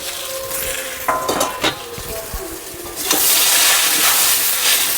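Plantain, carrot, sweet potato and drumstick pieces are stir-fried with salt in a pan after the potatoes, with metal scraping and clinks against a steady sizzle that grows louder and denser in the second half.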